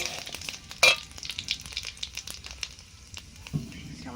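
Panch phoron spices and dried chillies crackle and sizzle in hot mustard oil. A sharp burst of spluttering comes first, followed by a lighter, uneven crackle close by with the occasional stir.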